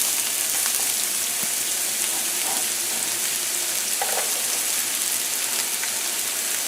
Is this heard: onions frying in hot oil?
yes